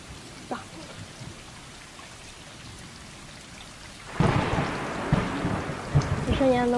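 Thunderstorm with rain in the cat adventure game Stray: a soft rain hiss, then a loud roll of thunder that rumbles on over steady downpour.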